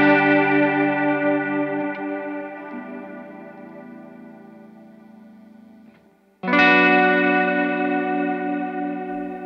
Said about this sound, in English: they sound pretty close with the Immerse on its maximum amount of modulation